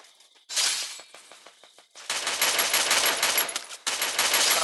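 Rapid automatic gunfire and shattering impacts in a first-person shooter video game, loud bursts starting after a quiet moment, then a long sustained barrage with a brief break before resuming.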